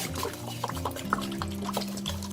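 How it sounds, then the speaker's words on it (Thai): Water poured from a bottle into a pot to make syrup for passion fruit juice, a steady close gurgling stream with a shifting pitch as the pot fills, under faint background music. "แล้วอุ๋ยจะเทเพิ่มอีกหนึ่งขวดนะ"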